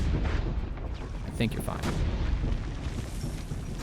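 Cannons exploding in Assassin's Creed Brotherhood, a dense rumbling barrage of booms and blasts that fills the whole moment, with a player speaking briefly over it.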